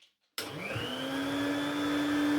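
A 1983 Numatic NV250 cylinder vacuum cleaner switches on abruptly after brief silence and runs up to a steady, whining hum with a rising motor tone.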